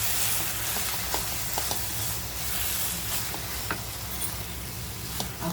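A chaat masala mixture with lemon juice, mint and coriander fries and gets stirred in a pan, giving a steady close sizzle with scattered faint scraping ticks and no voices.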